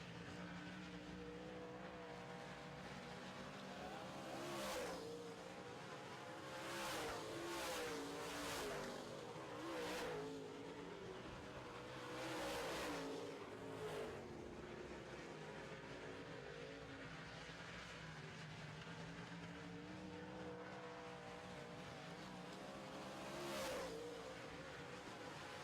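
Modified race cars run a heat race at Co-op Speedway, with engines roaring and revving as they pass again and again. The sound rises and fades in waves and stays fairly distant and faint throughout.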